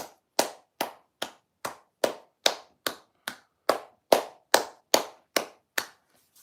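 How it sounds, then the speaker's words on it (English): A single pair of hands claps steadily, about sixteen crisp claps at an even pace, applauding Auburn football coach Hugh Freeze. The claps are close and alone, with no talk. "Hugh Freeze, yeah, clap it up to him"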